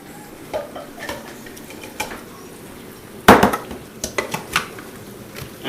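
Chopped red onion added to a pan where garlic is cooking, a sharp clatter of pieces landing, then a few lighter knocks and taps of a utensil against the pan.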